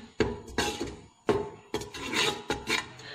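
Gram flour being stirred and roasted in a pan over a medium flame, with repeated scraping and rasping strokes of a spoon against the pan in an irregular rhythm, close and moderately loud with no talk.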